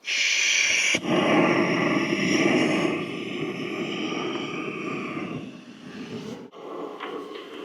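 A Jetboil Flash 1.0 L camping stove burner roars steadily and loudly up close, a broad continuous rush that eases slightly toward the end, with a brief dip near the start and another sharp break late on.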